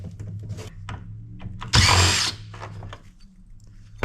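Power drill backing ferrous screws out of aluminum heat sinks during electronics scrapping, one short loud burst of whirring amid quieter handling clatter.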